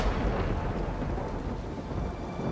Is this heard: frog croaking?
no